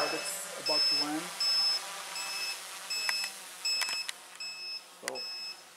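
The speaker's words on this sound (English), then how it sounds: "Battery beeper. Battery is getting low, but it's about to land." A drone's low-battery warning beeper chirps in short repeated bursts as the aircraft returns home to land, set against a quieter hum; the beeps are fairly faint, with brief voice-like sounds in between.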